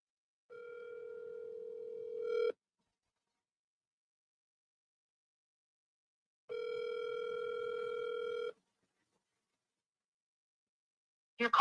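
Two long telephone ring tones sound through a line, each about two seconds and separated by silence, before a brief burst at the end as the call goes to voicemail; quiet and alone with no talk.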